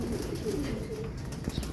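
A racing pigeon coos softly at the loft as birds return from a special toss, low murmuring calls under steady background noise.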